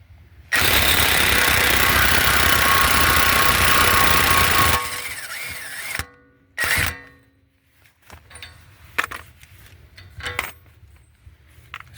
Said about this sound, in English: I'm going to use my impact and 32 millimeter socket to get this out.